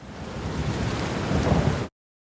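Rain with low rolling thunder as a weather report sound effect, a steady broadband hiss with a heavier swell near the end before cutting off abruptly.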